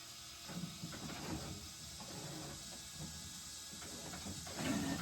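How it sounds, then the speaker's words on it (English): Printer printing a vinyl design, a quiet, steady mechanical whir with faint ticks and small clicks that continues throughout. "Now it's printing."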